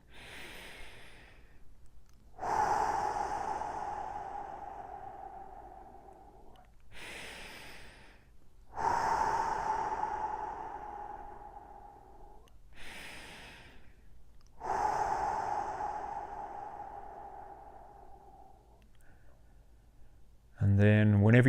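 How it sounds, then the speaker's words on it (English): Three slow, deep breaths in a guided relaxation exercise, each a long, close, airy inhale and exhale spaced several seconds apart, with a brief voice at the very end. "And then we're going to take 3 big deep breaths again."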